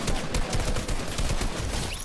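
Rapid pistol gunfire from a Fortnite match rattles in a dense, continuous volley of sharp shots throughout, loud and close with no talking over it.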